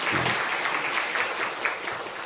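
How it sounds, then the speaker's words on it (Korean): A church congregation applauds during a Sunday worship service, with steady, even clapping from many people that fills the room for a couple of seconds at moderate volume. "하여튼 두 분 박수해 주시기 바랍니다."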